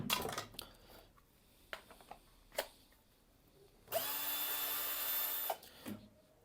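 A Wadfow lithium-ion cordless drill is test-run after its batteries are fitted, with clicks and handling knocks leading to a steady high whir lasting about a second and a half, close and alone.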